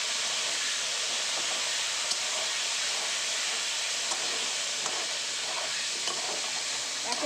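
Potatoes and eggplant fry in a pan, a steady loud hiss of oil with faint occasional pops and stirring taps throughout, close.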